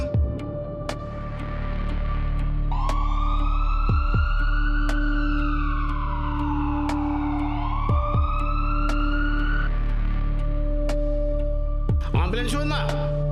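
An ambulance siren wails in a long rising and falling sweep, steady and fairly loud, with faint background thumps and other noise around it.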